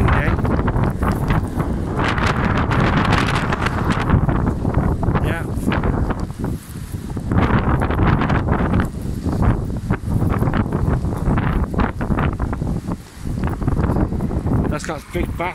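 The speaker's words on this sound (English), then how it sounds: "pretty windy." Strong wind buffets the microphone continuously, a loud rumbling roar with voices faintly underneath.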